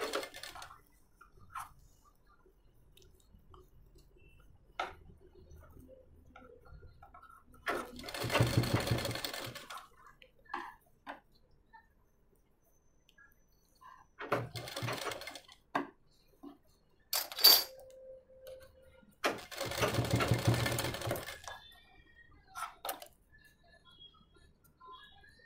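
A sewing machine stitches the back of a blouse in three separate bursts of close, rapid mechanical whirring, with quiet pauses and small handling clicks between them.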